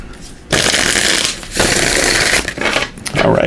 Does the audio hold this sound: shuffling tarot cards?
yes